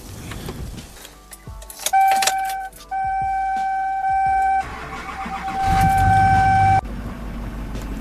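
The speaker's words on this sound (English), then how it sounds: "Backing up the trailers." A vehicle backs up trailers with flat tires on a windy day: a steady engine rumble with clunks and rattles, and sustained electronic warning tones that switch on and off in stretches.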